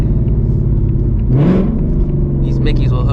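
A drag car's engine rumbles at idle, then revs up sharply in one rising burst around the middle before settling back, with a person talking over it for much of the time.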